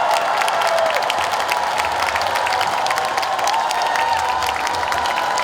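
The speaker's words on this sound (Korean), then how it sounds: "한번 큰 박수 보내주시면" An audience at a Daejeon outdoor festival evening event applauds, with dense, sustained clapping and scattered cheers that stay steady and fairly loud throughout.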